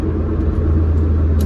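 Car rolling along a road after a new gauge cluster install, a steady loud low engine rumble with road noise, close and continuous, no voices.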